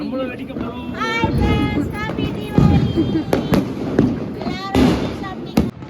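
Diwali firecrackers burst repeatedly at a family celebration, sharp loud cracks and pops scattered through the stretch over crowd noise and people talking nearby.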